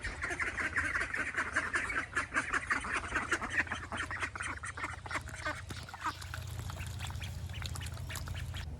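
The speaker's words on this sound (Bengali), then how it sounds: "হাঁসগুলো অনেক খিদা লেগে গেছে, খাইবা দিতে হইব" A flock of hungry ducks quacking loudly and continuously up close, a dense overlapping chorus of honking calls.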